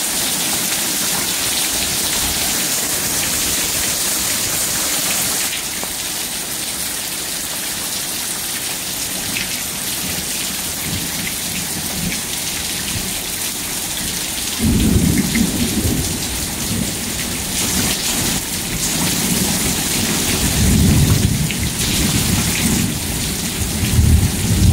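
Heavy rain pours steadily through a lightning storm near Lufkin, Texas, with thunder rumbling and swelling louder in the second half, all close and dense with no talking.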